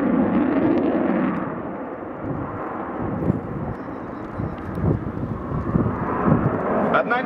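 A MiG-29M OVT fighter jet's engine roars loudly and continuously, a broad jet rumble that dips briefly and then swells again, with a voice talking over it.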